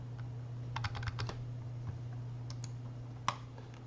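Quiet computer keyboard typing and mouse clicks during SolidWorks CAD modeling, a short cluster of keystrokes followed by a few isolated clicks over a low steady hum.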